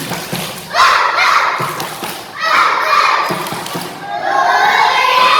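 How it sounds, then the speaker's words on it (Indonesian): A kindergarten class at an Islamic preschool doing a rhythmic spirit clap before morning exercise, rounds of clapping and thumps mixed with children's voices and shouting, loud and close. "Oke, tepuk semangat, tepuk semangat."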